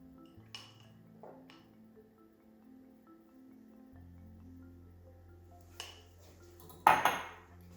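Chopped hard-boiled eggs are tipped into a larger bowl. Faint clinks and taps of a utensil on dishware come first, then a sharper clatter near the end over a quiet kitchen hum.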